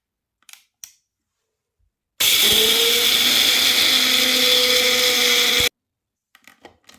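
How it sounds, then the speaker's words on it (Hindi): A blender grinds spices for namkeen masala, whirring loudly for a few seconds, a high steady motor grinding, framed by faint clicks and taps before and after. "इन सभी चीज़ों को हम ब्लेंडर में ब्लेंड कर देंगे"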